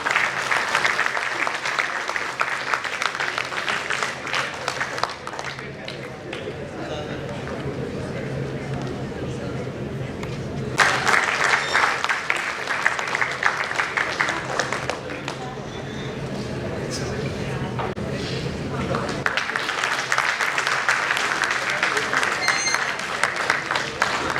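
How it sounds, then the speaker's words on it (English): Long applause from an audience after a panel discussion on emerging energy technologies, steady clapping that swells and eases in waves, with crowd murmur and voices underneath. "A big round of applause, guys."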